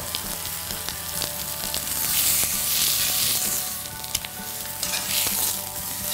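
Steak searing in a cast iron pan with crushed garlic, a loud continuous sizzle and spitting crackle of rendering fat, close up with sharp pops and no talking.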